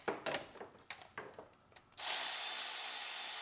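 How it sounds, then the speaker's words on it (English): Milwaukee power tool snugging down bolts on a car, a few short clicks and bursts first, then a loud continuous mechanical whir that runs steadily to the end. "We'll snug up all of our bolts, tighten them down to manufacturer specs"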